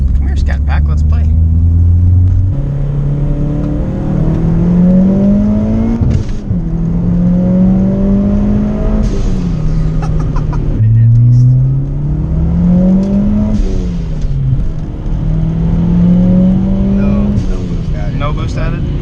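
A Mitsubishi Evo 3 running a big turbo on ethanol accelerates hard through several gears, each pull climbing in pitch before a shift drops it, loud and close, with speech mixed in.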